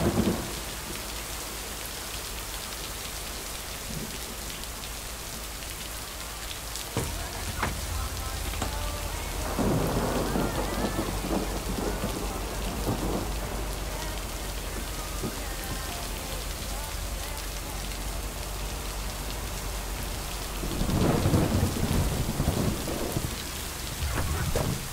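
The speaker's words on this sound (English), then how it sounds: "Jesus, she doesn't bring an umbrella or anything. You just, you know, soldiering through this rain." Steady rain pours down in a continuous hiss, with deep rolls of thunder swelling several times, at around ten and twenty seconds especially, through a long stretch of stormy weather without talk.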